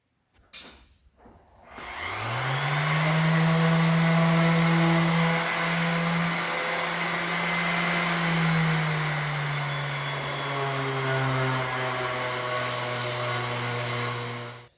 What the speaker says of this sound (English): So we're gonna go ahead and just sand all this down.